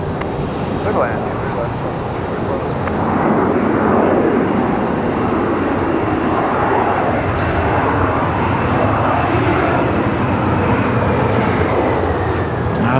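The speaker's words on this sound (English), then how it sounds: "Nice touchdown for the CRJ" CRJ jet airliner touching down at Raleigh Durham, a continuous loud roaring rush of engine and wind noise that holds steady throughout, with faint radio-like voices.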